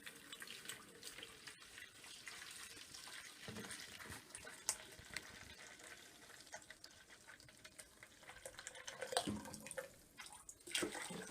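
Water pours and splashes quietly into a home brewing vessel as it is filled litre by litre, a faint, steady running stream with small gurgles and drips.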